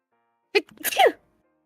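A single close, sharp sneeze bursts out of silence, ending quickly.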